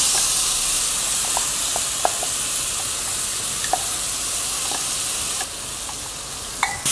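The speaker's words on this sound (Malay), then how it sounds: "Tumis sampai garing." Steady loud sizzling of ground chili paste frying in hot oil in a wok, with occasional pops and spatters and a scrape of stirring, no voices.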